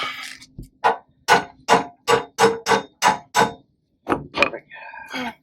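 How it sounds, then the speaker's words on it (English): A brass hammer strikes metal during a solar arch installation, about eight sharp, evenly spaced blows in a quick steady rhythm, close and loud, with voices talking briefly at the start and end. "There's a brass hammer up there."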